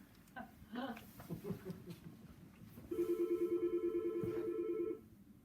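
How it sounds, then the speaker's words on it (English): A telephone rings in a single long electronic burst at a radio station, loud and steady with evenly pulsed harmonics, following a stretch of indistinct talk. "I figured if it rang once, I should turn the ringer volume down so it doesn't ring twice."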